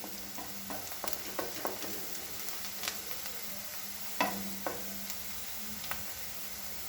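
Onions frying in a pan, just turning golden: a steady sizzle with scattered clicks and scrapes from stirring, close by, with no voices.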